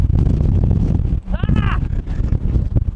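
Strong gusty wind buffets the microphone at a desert nomad camp, a loud continuous rumble with a person talking over it throughout.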